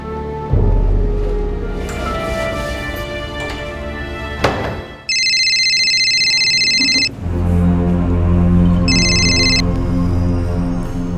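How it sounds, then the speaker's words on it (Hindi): An electronic telephone ringtone trills in two bursts, loud and bright, between stretches of dramatic music and heavy thuds. "मणि, फोन लगाओ एम्बुलेंस को।"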